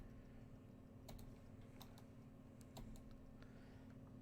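Keys on a computer keyboard tapped in small, uneven clusters, faint against a steady low hum of room noise.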